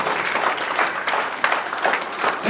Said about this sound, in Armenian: Ծափահարենք